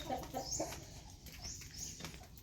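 Chickens cluck in short bursts close by, with a steady farmyard murmur underneath.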